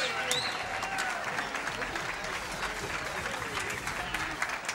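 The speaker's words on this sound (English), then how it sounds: "can we get a round of applause for all of the participants" A crowd claps steadily in sustained applause, with scattered voices and cheers mixed in throughout.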